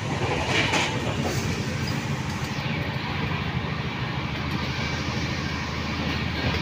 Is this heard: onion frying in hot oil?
no